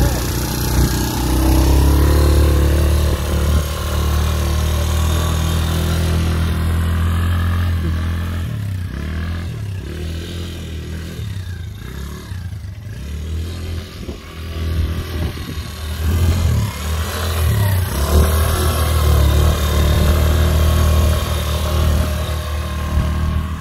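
A Quadzilla Spider 110 quad bike engine runs steadily and loud throughout, with a low rumble and some clattering, dipping slightly midway before rising again.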